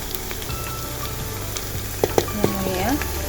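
Chicken meat sizzles and fries in a pan while an Assamese dish is cooked, a steady crackling hiss with a few sharp pops and spatters toward the end.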